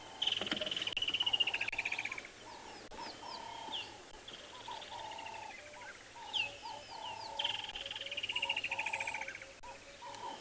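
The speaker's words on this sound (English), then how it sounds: "You can hear all the different birds." Several birds call around a safari vehicle at sunrise, with repeated coos and whistled, descending phrases ringing out close and clear over a quiet background, and a faint steady low hum underneath.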